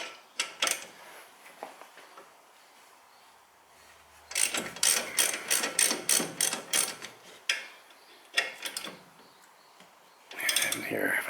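A ratchet loosens the 13 mm brake caliper bolts on a Mercedes E550, with a few scattered clicks followed by a close burst of rapid, rhythmic ratcheting and then more bursts after short pauses.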